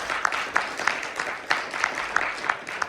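A church congregation claps during a sermon, steady rhythmic applause with regular sharp accented beats, moderately loud and filling the room, no speech over it.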